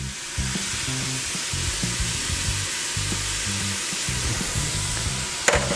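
Garlic sizzles steadily in butter in a pot for Zuppa Toscana soup, a close, even frying hiss with soft stirring clatter and no voices.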